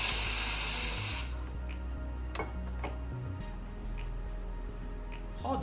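Gaggia Carezza Deluxe espresso machine's steam knob dispensing hot water: a loud, broad hiss for about a second, then it cuts off, leaving a quiet room with a few faint ticks and clicks.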